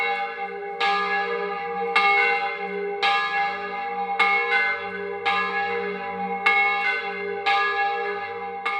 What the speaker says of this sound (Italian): amano le campane